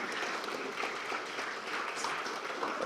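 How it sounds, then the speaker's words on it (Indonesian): Audience applause at an Indonesian political gathering, a steady wash of many hands clapping, fairly faint and distant, continuing evenly without a break. "kita beri tepuk tangan"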